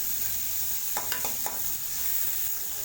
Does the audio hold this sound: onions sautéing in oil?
yes